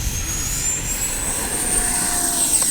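A Freewing A-4 Skyhawk 80mm electric ducted-fan RC jet flies past with its gear up, giving a continuous whooshing whine with a steady rising pitch.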